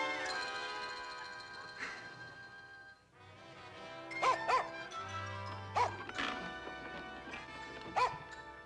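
A dog in a Dennis the Menace cartoon gives sharp, close yips and barks in several bursts, with tonal whimpering between them over a faint musical background.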